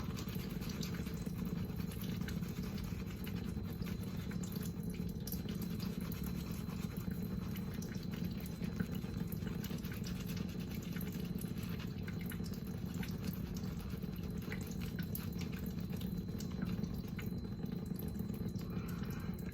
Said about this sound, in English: put that water down just to a little drip.